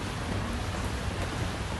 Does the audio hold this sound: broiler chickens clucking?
no